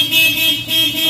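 A Honda Fit's horn, sounded after a clock spring repair, gives one steady sustained honk that lasts about a second, loud and close, with a slight dip in the middle.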